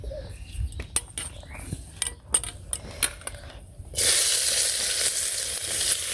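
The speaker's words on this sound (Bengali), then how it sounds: "তেল দিয়ে দিলাম কড়াইতে" Oil poured into a wok on a village stove, first a series of clinks and metallic knocks, then a sudden loud, steady hiss of sizzling oil that continues close up to the end, with no talk.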